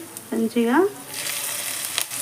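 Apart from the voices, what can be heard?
tempering sizzling for gongura pickle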